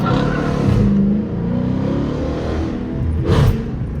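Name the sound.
Dodge Challenger RT accelerating hard and breaking traction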